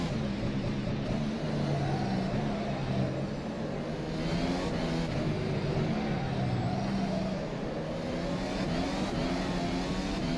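A simulated Formula SimRacing FSR 2018 development car screams around Spa in rFactor 2, its engine held at high revs with rising and falling pitch through gear changes, continuous and close with no voices.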